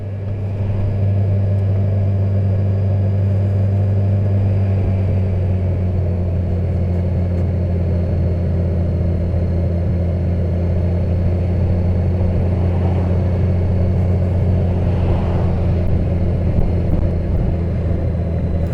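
A motorcycle cruises at speed with a steady, loud engine drone and heavy low rumble, wind noise blended in, unbroken and close throughout.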